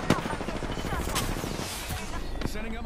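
Rapid gunfire and heavy shotgun blasts in the Apex Legends video game, with a dense, continuous barrage of shots and a few louder bangs, while players talk over the combat.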